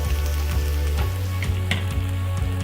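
Cauliflower fries in a pan and makes a dense, loud, continuous sizzle close up, with a low pulsing rumble and occasional brighter crackles, and no talking.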